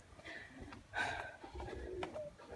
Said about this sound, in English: And they have like birds over there. Not sure what kind of birds